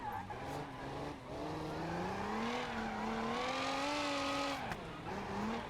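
A custom drift car in the BeamNG.Drive video game, its engine revving and holding a steady high drone that rises and falls in pitch, loud throughout, with a hint of tire squeal.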